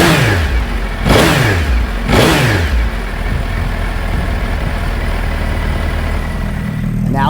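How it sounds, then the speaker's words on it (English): A stock Gen 2 Suzuki Hayabusa motorcycle on its restricted factory exhaust revs hard twice in quick succession, then settles into a steady, loud, close idle. "The very restricted Gen 2 Suzuki HAYABUSA exhaust system."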